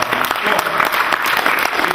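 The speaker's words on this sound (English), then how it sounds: "So give yourselves a big round of applause." A town hall meeting audience claps loudly in a brief burst of applause, dense overlapping hand claps with no break across two seconds.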